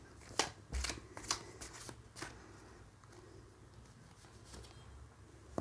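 Tarot cards being shuffled by hand, heard up close as quick papery riffles and flicks, with the busiest bursts early on and quieter shuffling afterwards.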